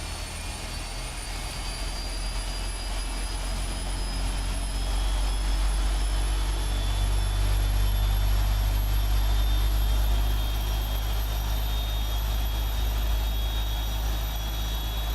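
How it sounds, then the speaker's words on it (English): Airliner jet engines run in Microsoft Flight Simulator, giving a continuous loud roar with a deep rumble and high whining turbine tones that hold steady throughout. "Listen to those engines."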